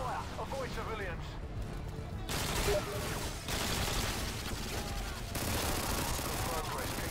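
Bursts of rapid gunfire and explosions in a co-op shooter video game, dense and loud in waves, with voices shouting over the shooting.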